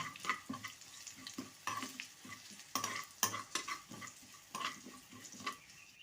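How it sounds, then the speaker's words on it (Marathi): A spoon stirs a small amount of sugar into a hot tempering after the gas is turned off, giving quiet, uneven scraping and clinking strokes with a faint sizzle underneath. "ही छोटा चहाचा चमचा साखर घेतलेली आहे ती पण घालून घेते आणि हलवून घेते चांगली"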